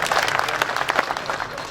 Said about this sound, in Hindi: ताली बजाई इस बात पर